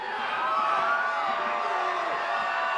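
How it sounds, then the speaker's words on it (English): A large crowd at Scott Walker's 2012 Wisconsin election victory speech cheers and whoops loudly and continuously, a dense roar of voices with shouts rising out of it throughout. "What a crowd."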